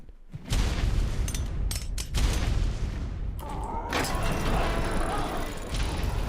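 Grenades exploding during a base raid in the video game Ark, a dense run of heavy booms and crackling blasts close by, with mechanical clatter throughout.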